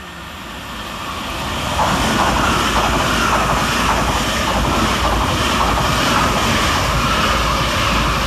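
Class 387 Gatwick Express electric train running fast through Hassocks station, a loud rushing roar that builds over the first two seconds and then holds steady and close, with no voices.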